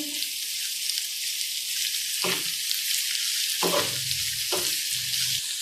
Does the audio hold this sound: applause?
no